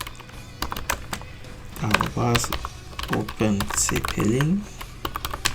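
Keystrokes on a computer keyboard as a terminal command is typed, a series of close taps running under steady spoken narration throughout.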